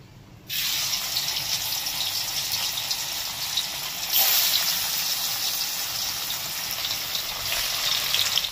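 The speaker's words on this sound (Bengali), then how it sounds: "এবার একটা একটা করে ভেজে নেব" Paneer pieces frying lightly in a pan give a steady, fairly loud hiss that starts abruptly after a brief quiet moment and holds evenly, swelling slightly partway through, with no talking.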